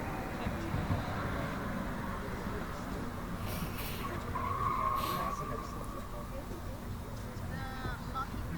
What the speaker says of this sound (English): look at that guy in the Mach-E just flying down there